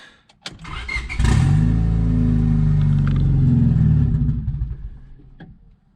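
A turbocharged Honda Civic with a D16 engine cranks, catches and runs roughly for a few seconds, then sputters and dies out, failing to stay running.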